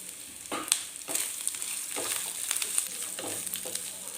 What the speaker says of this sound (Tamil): துவையில் இஞ்சி நல்லா வதங்கிடுதுங்க